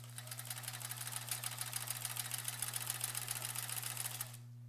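A sewing machine stitching in free motion quilting, a rapid steady mechanical chatter that runs evenly for about four seconds, then stops abruptly; no talking.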